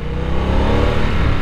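A water-cooled Harley-Davidson Nightster motorcycle accelerates with a loud, close, steady engine growl. Strong low rumbling harmonics rise under throttle in a sensitive riding mode.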